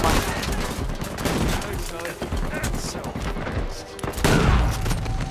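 Rapid video game gunfire from Uncharted, dense bursts of shots and booms filling the whole stretch at steady loudness, with game action noise layered throughout.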